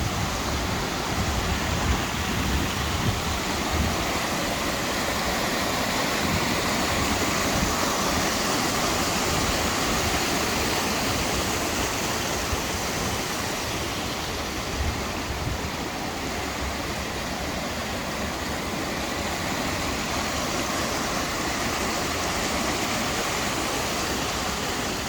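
Llanberis waterfall pouring into a mossy, constantly wet ravine with a deep clear pool, a steady close roar of rushing water that holds unbroken and loud throughout, with no voices.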